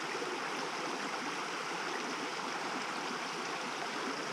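A mountain stream flows steadily after overnight rain near a forest hut, a constant broadband rush of water, fairly close and unbroken, with no voices.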